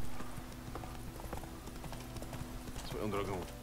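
Horse hooves clip-clop in The Witcher 3 video game, a steady, evenly spaced trot heard under game ambience, with a brief voice near the end.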